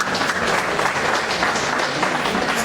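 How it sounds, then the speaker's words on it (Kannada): A hall audience at a Rashtriya Basavatattva Parishat monthly gathering applauds to welcome guests onto the stage, a dense, continuous wash of many hands clapping, loud and close throughout. "ಅವರಿಗೆ ನಮ್ಮ ನಿಮ್ಮೆಲ್ಲರ ಜೋರಾದ ಚಪ್ಪಾಳೆಯೊಂದಿಗೆ ಸ್ವಾಗತಿಸೋಣ"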